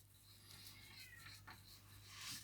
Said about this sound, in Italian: Il mio gatto Michelangelo fa da colonna sonora, non so se lo sentite